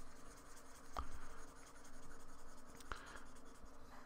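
A marker or chalk scrubs across a board while writing from a calculus lesson on the derivative definition is erased, a close, continuous scratchy rubbing with two sharp taps.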